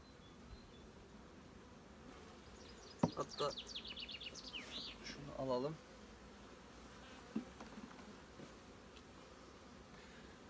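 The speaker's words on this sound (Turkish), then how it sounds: "Gördüğünüz gibi sakin bir arı dostlar." A faint, steady drone of calm honey bees hums in the background during a hive transfer while a person speaks briefly nearby and something clicks and rustles.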